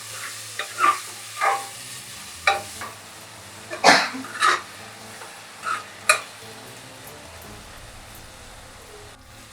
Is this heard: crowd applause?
no